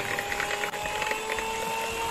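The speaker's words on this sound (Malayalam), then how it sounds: "നമുക്ക് ഈ മുട്ട ഒന്ന് നന്നായിട്ട് ബീറ്റ് ചെയ്തെടുക്കാം." Eggs with vanilla essence are beaten in a bowl for a banana cake. A steady, close whirring runs throughout with a light rattling clatter and no talking.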